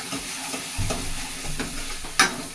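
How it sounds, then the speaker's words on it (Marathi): Goat intestine masala with onion-garlic paste and Kashmiri chilli stir-fried in a pan, a steady loud sizzle with scraping spoon strokes and one sharper clink near the end, close and with no talk. "आणि हे काश्मीरी सगळं टाकून व्यवस्थित परतून घ्यायचं."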